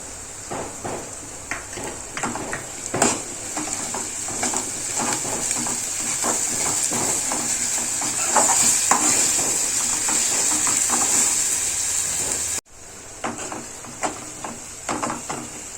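Ginger garlic paste fries in a hot pan for a Nagpuri Saoji patwadi gravy, a loud steady sizzle and hiss with repeated scraping stirs, briefly cutting out near the end before resuming.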